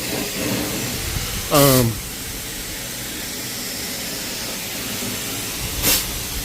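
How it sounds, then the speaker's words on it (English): A carpet cleaning machine gives off steam as a soft, steady hiss through most of the stretch, with a short louder tonal burst near the middle and a faint puff near the end, all fairly close. "Now you can see I'm getting some steam, but it's not like a crazy amount."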